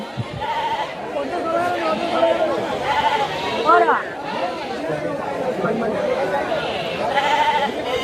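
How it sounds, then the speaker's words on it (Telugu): Goats and sheep bleating repeatedly amid busy crowd chatter, several animals calling over a constant murmur of voices at the Vaddadi weekly market. "చాలా మేకలు గొర్రెలు చాలా ఎక్కువ వచ్చాయి అన్నమాట"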